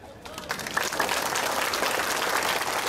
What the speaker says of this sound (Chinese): 唔該拍手。